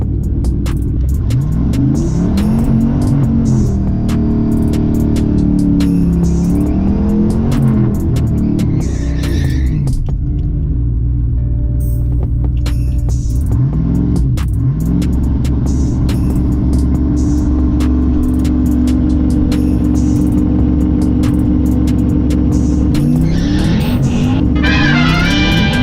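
An LS turbo Nissan 240sx with a 4L80 transmission and transbrake drag racing a Z06 over an eighth mile: a loud, close, droning engine revving and throbbing, climbing and dropping in pitch through gear changes.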